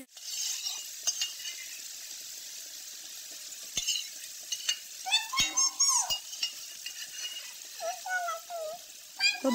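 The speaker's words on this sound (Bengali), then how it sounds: "তেজপাতা আমার হালকা ভাজা হয়ে গেলে তো মাংসগুলো আমি এই যে ছেড়ে দিলাম।" Pigeon meat pieces dropped into hot oil with bay leaves, bursting into sizzling and crackling with scattered clinks of a spatula against the pan, close and fairly loud.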